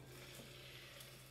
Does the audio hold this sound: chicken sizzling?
yes